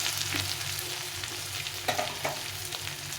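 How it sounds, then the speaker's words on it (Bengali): Ginger fries in a pan, a soft, low sizzle close by, broken by a few stirring scrapes and clicks. "আদাটা একটু ভাজা ভাজা করে নিতে হবে, সামান্য একটু ভাজা ভাজা করে নিতে হবে।"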